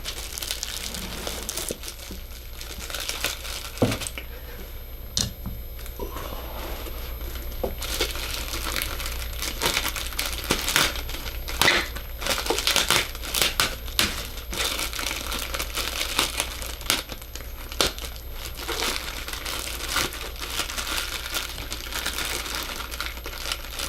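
Packing tape on the bottom of a Monoprice 10-inch studio subwoofer box crinkles and crackles as the carton is handled, with steady close rustling and scattered sharp clicks and taps throughout.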